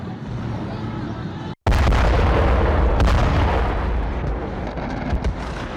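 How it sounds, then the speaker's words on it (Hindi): An Israeli strike hits Hezbollah rocket launcher sites in news footage: a loud, heavy roar of blasts and rumbling detonations, cut by a brief dropout, then sustained booming with sharper cracks. "इजराइल का हिजबुल्लाह के ठिकानों पर हमला आया, ये शॉट देखिए जरा"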